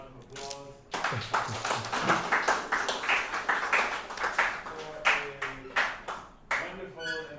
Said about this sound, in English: give Dr. Nisbett another round of applause for